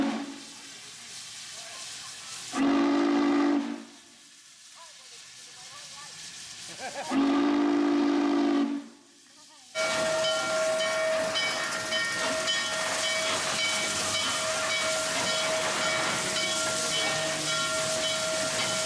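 Norfolk and Western 611, a huge steam locomotive at the Strasburg Railroad, sounds two loud, close whistle blasts, each lasting one to two seconds. A steady hissing, rumbling roar with a sustained tone follows.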